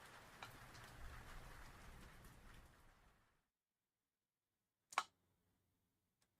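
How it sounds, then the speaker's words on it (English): Steady rain pours in a video game for about three seconds, then abruptly cuts to silence, followed by a single sharp click near the end; no talking. "It's still raining."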